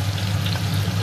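Onions hitting hot oil in a pressure cooker while mutton kasha is being made, giving a brief close sizzle with a steady crackle and a low hum beneath.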